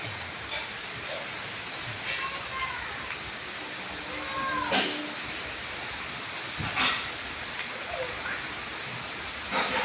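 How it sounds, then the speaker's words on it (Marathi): Heavy rain falls steadily in Nashik as a dense, even hiss, with occasional louder splashes and knocks standing out from the constant downpour. "नाशिकला किती पाऊस चालू आहे बघा."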